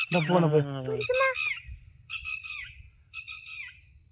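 A bird gives a series of clear, high chirps and short whistled calls, with faint insect buzz in the background.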